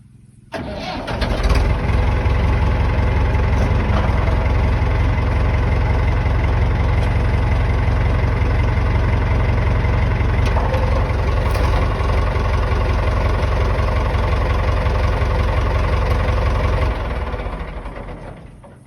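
A Nuffield tractor engine cranks and catches, then settles into a steady, heavy diesel idle close by for about fifteen seconds before shutting down, with no talking.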